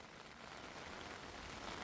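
Heavy monsoon rain pours near a swollen, flooded river, making a steady, dense hiss that holds even throughout with no voices.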